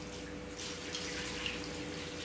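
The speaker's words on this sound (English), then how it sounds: "I'm just gonna pour it over the noodles" Water pours from a container over dry lasagna noodles in a small baking dish, a faint steady splashing stream with no voices.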